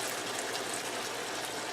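Liquid pours steadily into a pot of cooking taco meat, a continuous close splashing gush with no pauses or voices.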